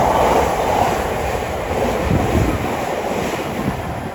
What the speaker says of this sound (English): the next train to pass through about 12 minutes late will be a Thameslink service from Peterborough to